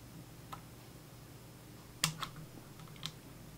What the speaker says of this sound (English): I think the best thing we can do is just snip it out for now